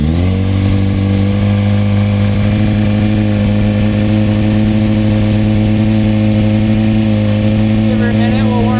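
A Honda CBR F4i motorcycle engine idles steadily while warming up, a loud, close, continuous tone with a steady low pulse that holds even throughout with no clear revving.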